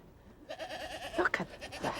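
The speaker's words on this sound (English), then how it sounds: "So these are the goats over here, are they?" A mixed herd of goats and sheep in rural Jordan bleats in several overlapping calls, close by, with a rough, quavering tone and some short thumps, and no talking.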